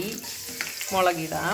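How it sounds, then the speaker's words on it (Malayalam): Mustard seeds crackle and sizzle in hot oil with small rapid pops, close by, while a person talks over it. "കടുക് പൊട്ടി"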